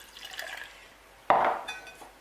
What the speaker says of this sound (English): Pour in your lemon juice into the blender jar.